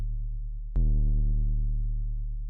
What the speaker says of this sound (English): I love doing really, really fast vibrato, like hyper, almost audio rate vibrato at underneath half a semitone.